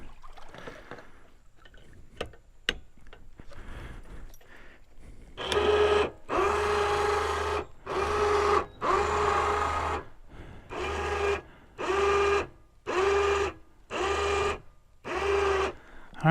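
An ATV winch hauls an Argo 6x6 out of a swamp in the woods, whirring in about eight short, loud pulses of roughly a second each, with quiet gaps between them after some faint knocks at the start.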